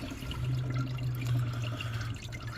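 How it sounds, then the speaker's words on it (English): Diesel fuel drains and trickles off a loosened fuel filter on a Cascadia truck with a DD15 engine, a close continuous liquid splashing and gurgling lasting a couple of seconds. "I kind of let the excess fuel drain off of it a little bit"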